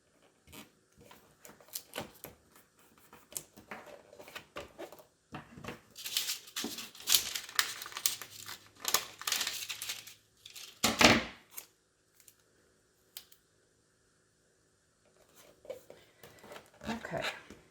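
Tape is pulled, torn and pressed onto a sheet being fixed down for Cricut return-address labels, giving close crinkling, ripping and rubbing bursts with pauses, while a person talks intermittently.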